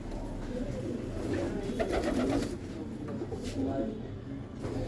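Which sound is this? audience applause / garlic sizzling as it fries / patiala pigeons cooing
patiala pigeons cooing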